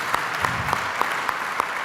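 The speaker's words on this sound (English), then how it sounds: "Give a big applause." An audience claps at a samba dance lecture, a brief burst of brisk, even applause filling the room with no one speaking over it.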